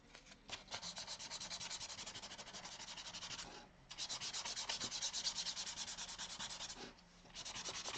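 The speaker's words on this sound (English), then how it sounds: "and lightly sand it." Sandpaper rubs lightly in quick, rhythmic back-and-forth strokes, close and continuous, broken by two brief pauses.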